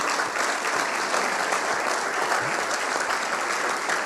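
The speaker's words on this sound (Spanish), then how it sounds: "Así que también un aplauso para ella." Sustained applause from a large audience at a school inauguration ceremony, dense and steady clapping throughout at an even level.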